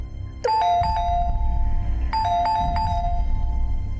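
A household doorbell rings twice in quick succession, each press giving a bright two-note chime that is close and clear over a low background hum, with no talking.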